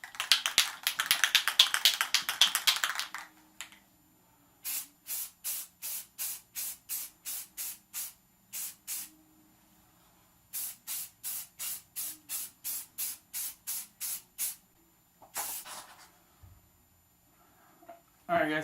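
Spray paint hisses onto an AR-15 rifle for a first coat: a long opening burst, then many short, rhythmic sprays with brief gaps, close and crisp, a few more bursts near the end, with faint talking.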